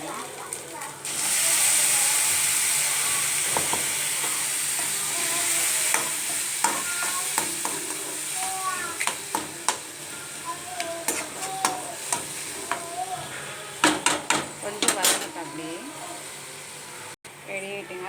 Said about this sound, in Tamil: ஆனியன் போட்டுக்கலாம் தக்காளி ஆட் பண்ணிக்கலாம்